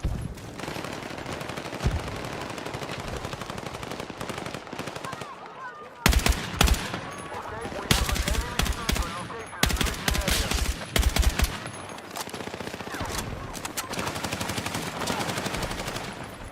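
Video game shooter gunfire, rapid automatic bursts repeating throughout with loud clustered volleys in the middle, a player's voice talking over parts of it.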